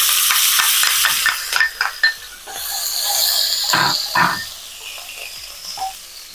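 Green chillies sizzle in hot oil with mustard seeds in a pan, tempering for curd rice; a spoon stirs and scrapes against the pan in several quick, close clanks over a steady fry hiss.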